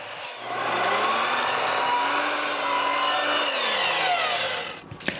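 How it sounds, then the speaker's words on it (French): Wooden boards for a trailer repair are cut to length with a power saw, heard as one long, loud, close cutting pass with a rising then falling whine, followed by a brief knock as the cut ends. "Je commence par couper toutes les planches à bonne longueur."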